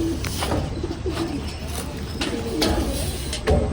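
Pigeons coo steadily in a loft beside a rice field in Lubao, Pampanga, with soft repeated low calls overlapping close by and a faint rustle of birds moving throughout.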